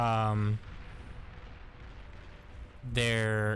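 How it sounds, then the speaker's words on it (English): Distant artillery fire in a real-time strategy video game rumbles as a low, continuous booming wash, framed by a voice talking before and after it. "Try not to get hit by that artillery"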